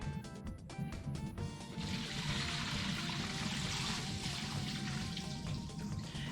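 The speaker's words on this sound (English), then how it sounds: "Yes, I can absolutely hear the toilet flush." A toilet flushing in a basement, carried through the pipe beside the microphone: a steady loud rush of water that starts about two seconds in and keeps going to the end, after a few short knocks.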